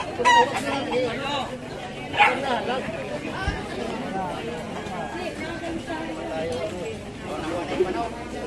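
Chickens cluck and a rooster crows briefly amid a police raid, under steady overlapping talk and background commotion.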